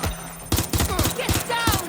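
Video-game gunfire aimed at the player in Watch Dogs Legion: after a brief quiet start, a rapid fusillade of loud, close shots bursts in repeated clusters with short gaps between them.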